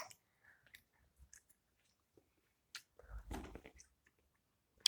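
A jelly candy chewed close to the mouth, with soft, sticky, wet mastication sounds and small clicks in scattered bursts, quiet overall and rising briefly in the middle, with no talking.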